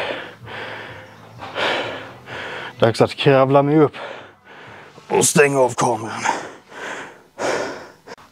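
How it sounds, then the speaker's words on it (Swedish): Heavy, ragged panting and gasping after an intense leg workout, loud and close, with breathy bursts between spoken Swedish lines. "så ni hör att jag fortfarande flåsar"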